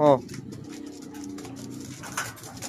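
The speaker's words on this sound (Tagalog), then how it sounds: "Yan kalapatids, flyer mix." Flyer mix pigeons coo close by in a loft, with a short call at the start and soft throaty murmuring under ongoing talk.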